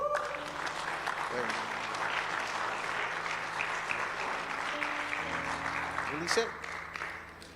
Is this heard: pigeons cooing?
no